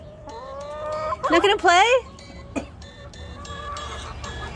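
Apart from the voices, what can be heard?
chickens clucking at chicken coop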